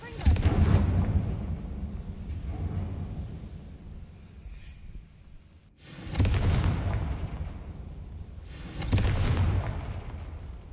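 Blasting-spell explosions in the Hogwarts Legacy video game: a long rumbling boom at the start, then two more heavy bursts a few seconds apart, each decaying into a low roar, with game sound in between.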